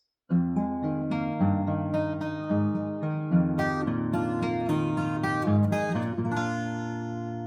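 A short fingerstyle guitar lick: several plucked notes ring out and overlap, played close and clean, then let sustain and fade.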